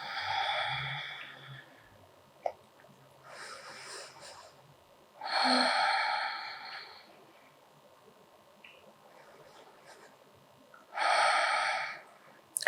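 Slow, deep belly breaths taken during a seated yoga twist, three long airy exhales spaced several seconds apart, close and quiet with faint movement between them.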